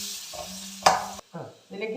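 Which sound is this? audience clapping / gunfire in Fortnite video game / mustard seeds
mustard seeds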